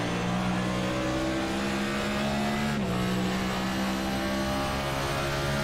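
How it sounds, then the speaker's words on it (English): A race car on the New Hampshire Speedway drops down through the gears on the apron, its engine droning loudly and steadily with a brief dip in pitch at the downshift. "he's definitely using that apron and that downshift to slow that car down"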